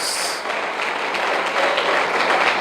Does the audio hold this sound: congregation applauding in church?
yes